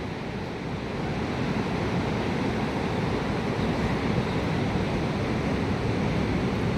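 Sea waves wash onto the shore in a constant, dense roar with no clear breaks between them, and no voices can be heard.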